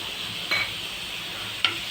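Ginger and chili paste sautés in a pan with a steady soft sizzle, broken by a few sharp scrapes of a spatula as it is stirred; no one talks.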